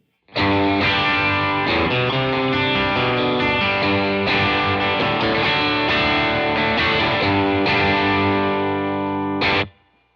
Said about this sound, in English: All right, let's cut the mids here.